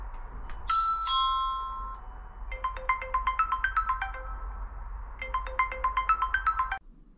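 A phone plays the Annke smart doorbell call ringtone, starting with a bright chime and then a quick repeating electronic melody of clipped beeping notes in two bursts, clear and close with a quiet background.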